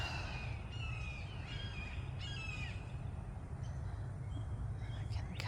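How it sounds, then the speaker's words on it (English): A hawk calling while circling overhead near a bridge outdoors, several harsh squawking cries repeated at a distance over steady background noise. "Oh, I see a hawk up there."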